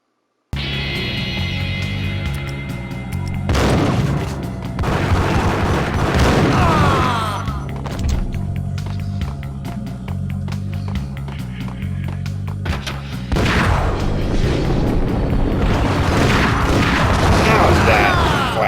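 Grenade launcher explosions in the shooter Max Payne, several heavy booms with crashing debris and gunfire spread through a noisy firefight, with brief speech between blasts.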